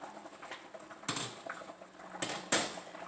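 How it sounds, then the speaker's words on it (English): Potato gnocchi from a 16-ounce package tumble into a soup pot of chicken gnocchi soup, heard as two or three quick close rustling, clattering drops over light kitchen noise. "I have a 16-ounce package of potato gnocchi. So we're going to just add the whole thing."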